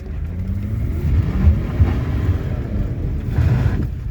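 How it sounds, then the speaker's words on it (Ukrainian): A BMW E34 car engine drones and rises in a low rumble as it is revved, with wind buffeting the microphone throughout and no voices. "ти можеш дати резку газу"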